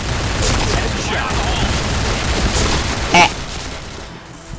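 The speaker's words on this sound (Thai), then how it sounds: "แนะนำว่าให้ยิงชุดนะพยายามคลิกอย่าให้เกิน3นัดต่อชุดนะ" Short bursts of M4A1 rifle fire in the shooter game Point Blank, sharp automatic cracks repeated in quick clusters with a brief spoken exclamation mixed in.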